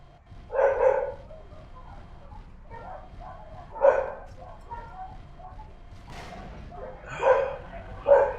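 Several dogs bark in distant bursts on city streets, a few separate volleys spaced a couple of seconds apart over a low background hum, with no talking.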